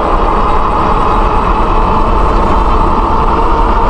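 A Senada Saber e-bike with a 1000W Bafang hub motor accelerates on throttle alone, a loud, constant, dense rumble with heavy wind and road noise that holds steady throughout.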